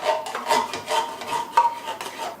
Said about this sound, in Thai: เทป๋องที่ 2 ลงไปครับ ใช้ช้อนตักให้หมดนะครับ